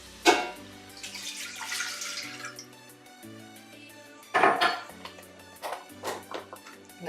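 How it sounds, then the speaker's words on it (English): Fifteen ounces of a canned ingredient poured into a soup pot for vegetable soup, giving wet splashing bursts with a clank of metal, a longer pour early and another near the middle, close and fairly quiet. "And then we'll add that to the pot."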